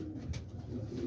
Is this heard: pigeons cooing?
yes